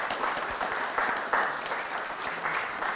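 Audience clapping fills an indoor event space, steady dense applause running throughout with a few louder swells, no talk over it.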